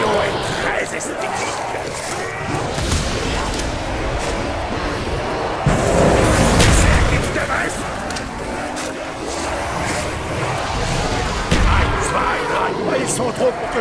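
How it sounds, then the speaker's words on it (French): Explosions and gunfire from Call of Duty Black Ops gameplay, a dense loud barrage of blasts with heavier booms around the middle, heard under someone talking. "L'explosion est très esthétique."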